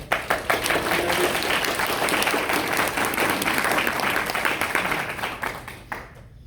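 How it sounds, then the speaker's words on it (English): Guests at an appreciation breakfast break into a round of applause: dense, steady clapping from a roomful of people that holds for several seconds, then thins out and fades at the end. "So if we get a round of applause just for my"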